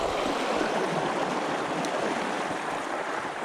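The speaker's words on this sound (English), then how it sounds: "we need to cross that river" A mountain bike rides through a shallow Scottish river on the Braemar to Glen Derry route. Steady, loud rushing and splashing water fills the whole stretch, continuous and close, with no voices.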